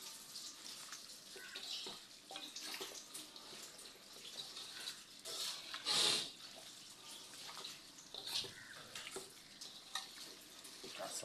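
Garlic and green chilies fry in a pan with a steady, soft sizzle and crackle, occasionally stirred, with one brief louder hiss partway through; no talking.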